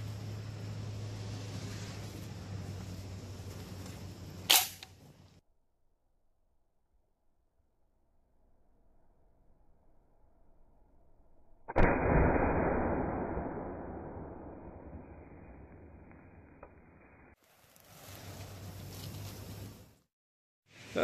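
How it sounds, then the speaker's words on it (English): A Silver Eagle SE 122 fires a flamethrower round outdoors: a sharp loud report, then a long roaring whoosh of flame lasting several seconds before it cuts off, followed by further rumbling noise. "we're gonna try out this flamethrower round"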